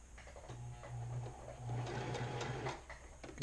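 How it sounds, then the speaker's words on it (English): Singer sewing machine stitching red thread into mesh fabric: a steady motor hum with rapid needle clatter in two short runs separated by a brief pause, close and fairly quiet, no talking. "fancy Singer sewing machine from Walmart"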